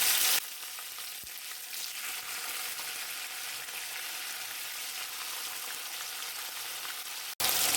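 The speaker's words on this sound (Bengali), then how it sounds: "ফোড়নটা একটু ফুটে গেলে এর ভেতরে টমেটো কুচি দিয়ে দিলাম।" Chopped tomato drops into a sizzling oil tempering in a pan for a vegetarian jackfruit biryani, a steady close crackling fry that holds evenly, with a brief clatter near the start and a sharp break near the end.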